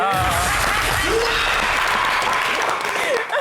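Studio audience applauding on a live entertainment show, a short burst of loud, dense clapping with a voice speaking over it.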